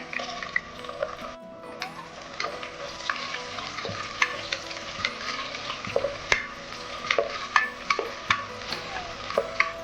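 Thinly sliced onion frying in a pan for Hyderabadi mutton haleem, a steady close sizzle broken by frequent sharp spatula scrapes and clicks throughout, with no talking.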